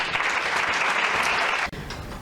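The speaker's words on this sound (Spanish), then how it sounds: "Un aplauso." Audience applause at a national Spiritist congress, a brief, dense burst of clapping in a hall that stops abruptly, leaving quieter room sound.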